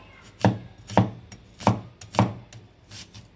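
A knife chops onions finely on a board, four or five sharp, evenly spaced cuts with brief pauses between them, close and clear with no talking.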